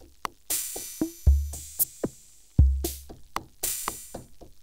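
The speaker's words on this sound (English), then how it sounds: "basic sounds on the Drumbrute sound like this." Basic kit sounds from an Arturia Drumbrute drum machine: a sparse pattern of booming kicks, clicky percussive hits, snare cracks and hissy cymbal washes, dry and fairly quiet, with no voices.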